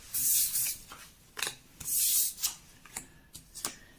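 Tarot cards shuffled and drawn for a cross-shaped spread: bursts of close, airy riffling swishes alternating with short soft card slaps and taps.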